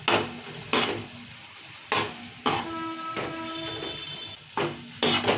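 Onions frying for chicken biryani in a pan, a steady sizzle broken by repeated sharp scrapes and stirring knocks of a utensil against the pan, close and clear with no talk.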